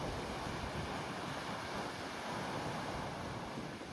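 Rough sea waves surge and wash continuously under strong wind on a stormy day in Denmark, a broad steady roar with gusty buffeting on the microphone and no voices.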